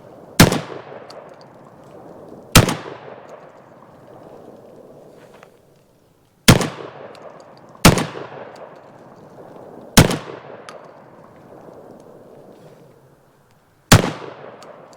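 A Benelli semi-automatic shotgun fires six loud, sharp shots outdoors at irregular spacing of about two seconds, each blast trailing off into a rumbling echo.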